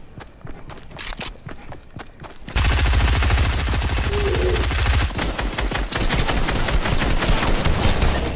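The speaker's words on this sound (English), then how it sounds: "Oh god, there's people shooting." Rapid gunfire in the Fortnite video game, loud bursts of automatic shots that build into a dense, sustained barrage of fire, with no voices.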